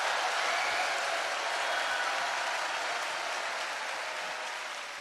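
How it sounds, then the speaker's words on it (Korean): A dense, steady roar of hard clapping from a large audience, loud and continuous without pause, fading slightly toward the end. "박수 세게 쳐."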